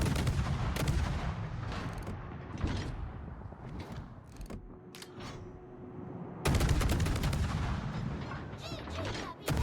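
Ships trade gunfire in a naval battle video game, with loud booming cannon blasts and rattling volleys in dense bursts, a quieter stretch of scattered shots, then another heavy barrage.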